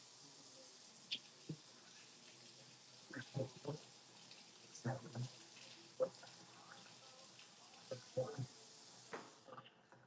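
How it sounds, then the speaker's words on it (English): Tap water runs steadily into a sink as tofu is rinsed, a soft continuous hiss with scattered splashes and clunks; a voice talks intermittently over it. "Let's finish rinsing off this tofu."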